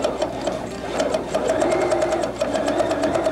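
A sewing machine stitches fabric pieces together for a quilt block, running steadily and evenly close up throughout with no pauses.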